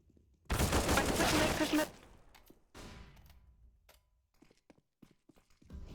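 Gunfire in Counter-Strike on the de_bakery map, a loud sustained automatic burst of about a second and a half, followed by a quieter volley and scattered footsteps and clicks.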